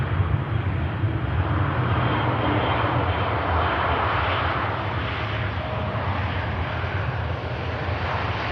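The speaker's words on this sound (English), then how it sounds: "And the beautiful KLM on the taxi there." A KLM airliner taxis at Manchester Airport, its engines making a loud, steady, unbroken roar that stays even throughout, with no voices.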